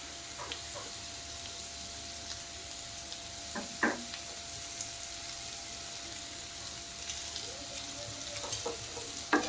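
Potatoes frying in ghee with salt and turmeric in a pan, a steady low sizzle running throughout with a few brief scraping stirs of a spoon near the start and end.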